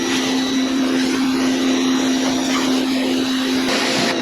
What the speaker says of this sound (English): we're using a little electric power washer, so we're not messing with the neighbors